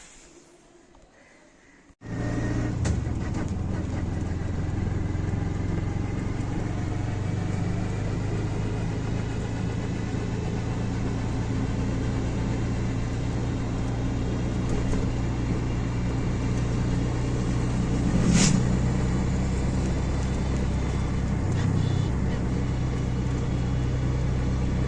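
An auto rickshaw ride on the return journey toward Mumbai, heard as a steady, close engine rumble and road noise. It starts abruptly after a quiet moment and drones on without pause, with no talking.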